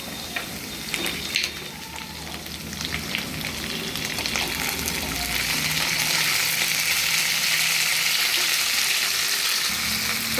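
Green beans drop into a pan of frying potatoes, and the hiss swells into a loud, steady sizzle that holds to the end, with a few stirring knocks early on.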